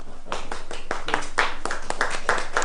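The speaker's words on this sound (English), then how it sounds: "Give a huge round of applause" An audience at a course ceremony claps in a brief burst of applause, uneven individual hand claps close by, fairly sparse and moderate in volume.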